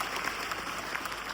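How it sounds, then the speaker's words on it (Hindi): Brief, fairly faint audience clapping at a spiritual talk in a hall, a short burst of scattered hand claps. "तालियां बजाइए उनके लिए।"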